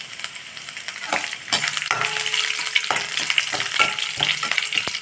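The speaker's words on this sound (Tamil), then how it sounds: "இதில் கருவேப்பிலை கொஞ்சம் போட்டுக்கலாம்." Curry leaves hit hot oil with chopped ginger for cabbage rice, bursting into a loud, crackling sizzle punctuated by sharp pops and the scrape of stirring, close up with no voices.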